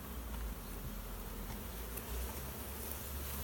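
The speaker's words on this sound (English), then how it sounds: "Julian, you want to touch some bees?" Swarm of honey bees caught in a swarm catch, droning in a dense continuous buzz that stays steady and close throughout, with no voices.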